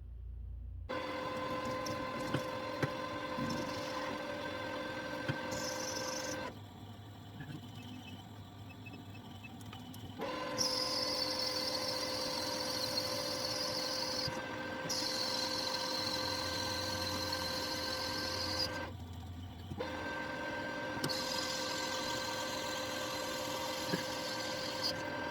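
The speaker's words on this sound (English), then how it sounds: "So I'll take a cut to size it, set my DRO, and I'll machine this down to 375 thou." A metal lathe turning a custom Ironhead Sportster engine part down to 375 thou, a steady mechanical whir with tonal hum. Cutting passes come in bursts of brighter hissing noise, separated by quieter stretches, close and alone.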